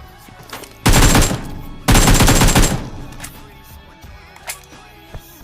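Automatic gunfire from the PUBG Mobile video game in two loud, sustained bursts about a second each, followed by a few scattered fainter shots.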